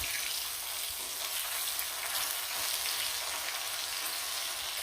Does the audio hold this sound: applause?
no